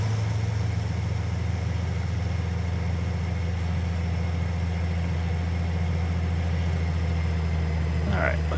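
A harvester working a soybean field in Farming Simulator 19 runs with a constant low engine drone and a brief higher rattle near the end, while someone talks over it.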